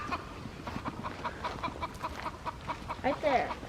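A farmhouse chicken clucks and cackles outdoors in soft, repeated calls with a louder squawk near the end, heard at moderate distance amid faint rustling.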